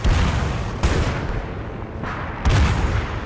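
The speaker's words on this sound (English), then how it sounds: "You can just hear the airstrikes coming in." Arma 3 airstrikes land in a dense battlefield roar, two heavy booming impacts about a second and a half apart, each standing out from the constant rumble of gunfire.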